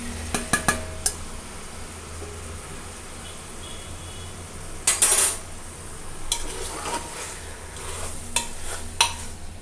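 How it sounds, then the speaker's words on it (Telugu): Country chicken pieces fry in a pan with a continuous close sizzle. Intermittent metal spoon scrapes and clinks come through as the pieces are stirred, and no one speaks. "వేసుకొని ఒక 10 మినిట్స్ వరకు మంచిగా ఫ్రై చేసుకోవాలండి"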